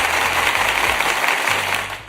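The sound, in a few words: applause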